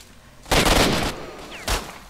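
Two loud gunshots ring out in S.T.A.L.K.E.R.: Shadow of Chernobyl, the first a sustained blast with a lingering tail, the second a short sharp report about a second later.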